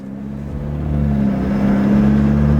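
BMW F30 sedan in comfort mode, its engine note rising steadily as it pulls and shifts smoothly, a continuous hum heard from inside the cabin with no talk.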